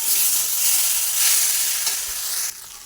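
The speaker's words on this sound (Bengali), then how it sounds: "ঢাকনাটা খুলে আমি খুব ভালোভাবে কষে নিয়েছি।" Spices and ginger paste fry in a pan under a loud, continuous hiss of sizzling oil, with stirring strokes mixed in. The sizzle drops a little toward the end, and no one speaks.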